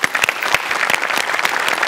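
A studio audience at a Marathi comedy show claps loudly for the performers, a dense, sustained burst of applause with individual claps standing out near the front.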